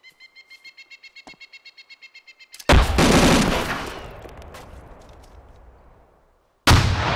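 Gunfire and explosions from the military shooter ArmA 2 with the ACE mod: a rapid string of light shots, then a loud heavy blast that rumbles and fades before a second sharp report cuts in.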